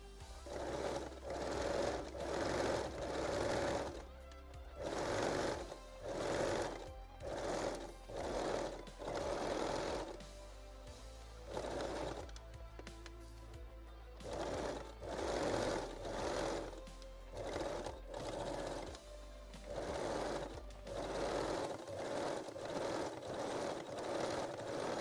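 A sewing machine stitches the folded elastic waistline of full lace Brazilian panties in repeated bursts of close, steady whirring separated by short pauses, with a low constant motor hum underneath.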